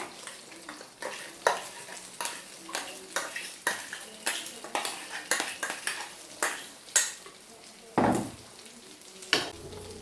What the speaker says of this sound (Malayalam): അരപ്പ് ഞാൻ ഒഴിക്കുവാണ്